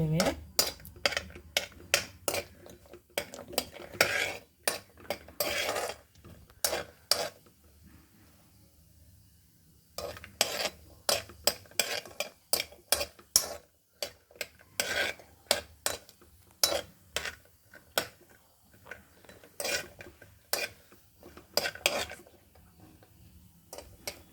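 Almonds and cashews roasting in a pan as they are stirred, repeated clinks and scrapes of a spoon against metal in bursts with a short quiet gap partway through.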